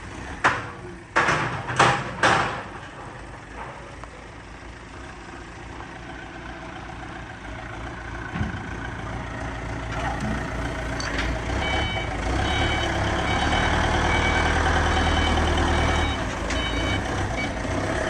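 An XCMG forklift's diesel engine idles and then revs steadily, with a few sharp clanks and repeated beeps near the start.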